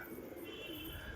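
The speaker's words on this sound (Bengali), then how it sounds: "এখানে একটা কবুতর বসে আছে" A pigeon perched on a sunny rooftop at midday gives a soft, brief cooing call, close and fairly clear over faint background noise.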